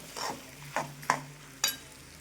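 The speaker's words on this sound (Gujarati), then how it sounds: "અને હવે આપણે બધું સરસ મિક્સ કરી લેશું" Sukhi bhaji, a dry potato curry, stirred and mixed in a pan: four distinct scraping strokes spaced about half a second apart, close and fairly quiet, with a faint sizzle beneath and no voices.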